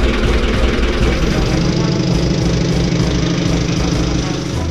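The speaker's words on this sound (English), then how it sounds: "we're about to have a moment of truth here to see if the engine of the wizard's eye is gonna fire up" A sailboat's inboard engine runs at a steady idle, a loud, close, low rumbling throb that holds evenly throughout without any voices.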